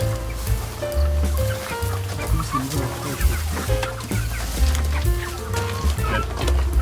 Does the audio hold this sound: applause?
no